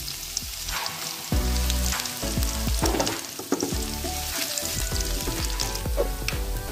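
Chopped garlic and five-spice seeds frying in hot oil in a pan for spicy stick noodles, a close, continuous loud sizzle with crackling pops and occasional stirring scrapes.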